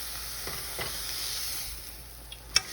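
Thin slices of beef frying in a pan for nom tok, giving a steady, close sizzle with a few soft stirring clinks and a sharper tap near the end.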